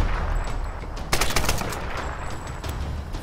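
A short burst of rapid gunfire rings out in the Tomb Raider video game, a few quick cracking shots clustered together over a low background hum, no voices present.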